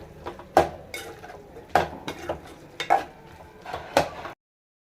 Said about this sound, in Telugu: పసుపు వేసుకొని బాగా కలుపుకోవాలి